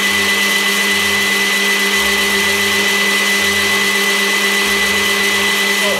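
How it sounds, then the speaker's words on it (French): An electric mixer whips egg whites with sugar at moderate speed, a steady loud motor whine running throughout with a faint rhythmic thumping underneath and no talk. "on va monter tranquillement, à vitesse modérée, les blancs d'œufs avec le sucre."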